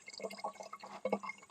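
Water trickles and drips from a bamboo spout set into a small source in the wild, giving soft irregular splashes and plinks close by with no talking.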